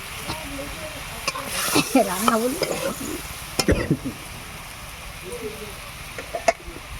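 A Bengali small-fish curry of puti and other little fish, cooked with chilli powder, simmers and sizzles in a pan. A steady bubbling hiss runs under a voice, with occasional clinks of a spatula.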